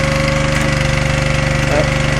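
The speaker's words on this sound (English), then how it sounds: "this shows you the power of the splitter" A log splitter runs steadily close by, its engine giving a loud, even, rapidly pulsing chug with a faint creak near the end.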